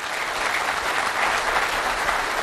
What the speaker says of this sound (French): Après ces discours très applaudis par l'auditoire